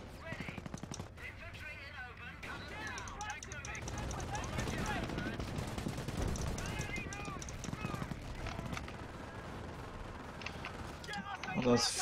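Machine gun fire in the World War II strategy game Company of Heroes, with rapid rattling bursts and mechanical clatter mixed into game noise, while someone talks over it.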